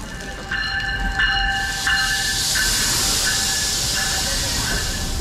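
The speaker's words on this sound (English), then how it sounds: "Train should be here soon now." An NJ Transit train pulls into a platform station with a steady hiss and rumble. Several sustained horn tones sound close by and fairly loud over the ongoing noise.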